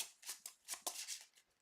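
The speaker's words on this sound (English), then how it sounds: "Shuffle the deck." A deck of cards shuffled by hand at a tabletop card game, heard as a quick series of close, soft riffling bursts over under two seconds, with no talk.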